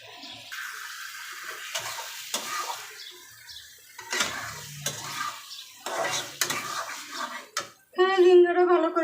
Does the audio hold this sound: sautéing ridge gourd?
yes